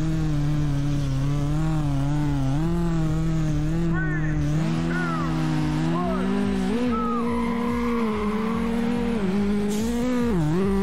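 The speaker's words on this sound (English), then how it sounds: "put it in first gear, and stand on the gas." Car engine in Street Legal Racing: Redline revs hard and climbs through the gears from a standing start on the line, a loud, continuous tonal roar that rises, dips at shifts and climbs again, with a voice talking over it.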